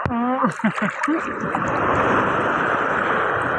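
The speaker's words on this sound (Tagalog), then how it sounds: "ang laki ng alon" Big ocean waves roll in at Burias Island, Masbate: a steady, loud, broad surf roar with splashing. A voice talks briefly at the start before the rushing water takes over.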